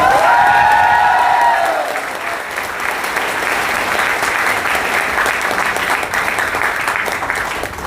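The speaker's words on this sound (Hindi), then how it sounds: "अपने आप के लिए जबरदस्त तालियां होंगी" Applause from a North East audience at a Dibrugarh training session, dense and steady for the full length, with a brief voice at the start before the clapping takes over.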